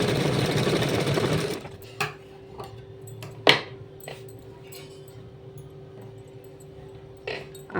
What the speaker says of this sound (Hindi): एक बार सिलाई लगा लिया, अभी एक बार और लगा लेंगे।